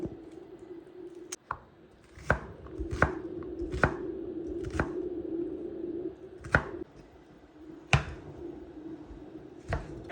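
A knife chopping chicken on a cutting board, about ten crisp, evenly spaced strikes, close and clear over a low background hum, no talking.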